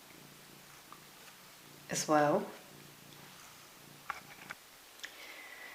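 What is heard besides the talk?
pet cat purring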